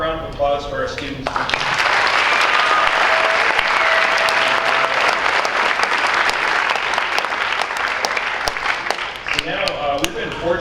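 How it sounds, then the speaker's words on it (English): Sustained, loud applause from an audience at a graduation ceremony for graduating students, a dense wash of clapping lasting about ten seconds, with brief talk at the start and end. "one more round of applause for our students"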